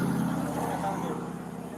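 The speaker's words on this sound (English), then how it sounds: "she just started the car" Car engine running steadily at close range with a low hum and mid-frequency drone, talk heard over it, as a woman starts the car during a police traffic stop and drives away.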